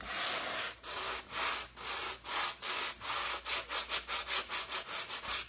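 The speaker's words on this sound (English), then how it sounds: "the more I sand down these raised areas" Hand sanding of painted wood with raised areas: steady rasping back-and-forth strokes, slow and long at first, then quicker, shorter and rhythmic toward the end, close and alone.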